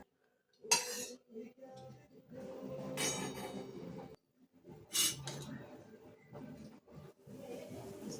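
Hot oil poured over ground fenugreek powder and mixed in a bowl for fenugreek laddus: close, bursty spoon scraping and clinking against the dish, with short pauses between rounds of mixing.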